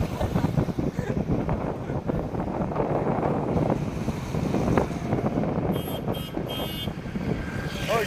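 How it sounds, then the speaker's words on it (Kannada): Strong wind blows beside the Tunga river in Shivamogga, swollen and running full, a loud, continuous roar buffeting the microphone from start to finish with only slight swells in intensity. "ಏನ್ರಿ ಗಾಳಿ ಇದು?"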